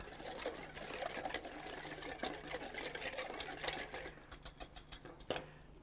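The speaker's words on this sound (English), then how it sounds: "Give that a good whisk." A chili and oil salad dressing is whisked in a bowl: a busy, rapid scraping and tapping that ends in a few distinct, evenly spaced strokes, close by and fairly soft.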